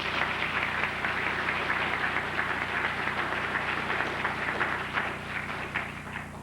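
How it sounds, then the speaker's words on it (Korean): A church congregation applauding together to welcome new members, steady dense clapping that holds evenly for several seconds and eases slightly at the end. "성도들 환영하는 박수 하십시다."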